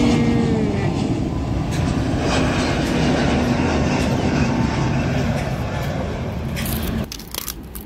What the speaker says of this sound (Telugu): ఇప్పుడు చూడండి ఫ్లైట్ ఎలా టేక్ ఆఫ్ చేసుకుంటా.